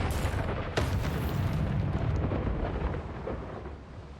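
A lightning strike in a video game lands with a sudden crack, then a loud, deep rumbling roll of thunder that slowly fades over several seconds, heard alone without talk.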